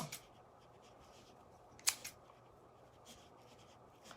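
Scissors snip once to trim a handmade wood bead garland, a faint, sharp click in a quiet room with a softer second snip just after and light handling rustle around it.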